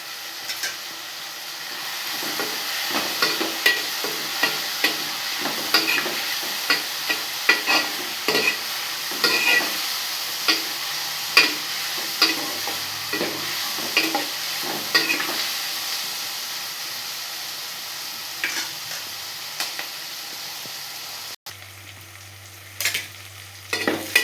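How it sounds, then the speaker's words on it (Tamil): Tomato and onion stirred and sautéed in a pan for a dried-fish curry, with a continuous sizzle broken by frequent scraping spoon strokes in an uneven rhythm, close and fairly loud, with no talking. "தக்காளி வெங்காயம் நல்லா வதக்கணுன்னு"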